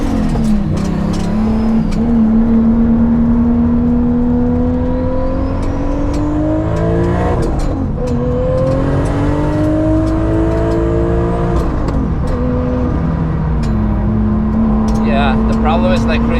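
A 1000hp Toyota Supra accelerates on the Nürburgring, its engine droning loudly in-cabin and rising in pitch through repeated gear changes, with a voice talking over it.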